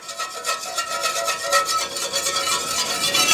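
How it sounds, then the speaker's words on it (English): A whisk scrapes rhythmically across a skillet, loosening browned bits in a pan sauce, a close, rasping back-and-forth swish repeating steadily about three times a second with no voices. "I'm just going to kind of whisk this a little bit to loosen up all those beautiful brown bits in the bottom of the skillet"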